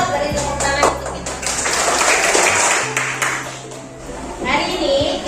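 A class of children claps hands together in a classroom, a rough burst of clapping mixed with children's voices and a low background hum.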